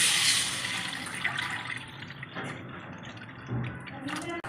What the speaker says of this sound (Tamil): இப்போது இதில் புளி கரைச்சி தண்ணியை ஊற்றிடலாம்